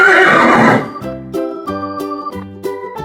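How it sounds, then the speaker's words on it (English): A horse on a farm gives one loud whinny that trails off, followed by a light music backing that continues underneath. "Horse."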